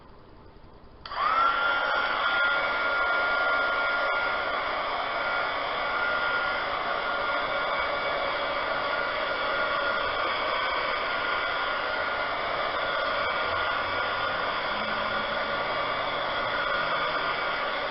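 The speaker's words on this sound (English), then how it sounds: "I'm going to hit it again with the dryer" A hair dryer switches on after a brief quiet moment and blows steadily over freshly poured resin in a mold, giving a loud, continuous, even whirring hiss that holds to the end.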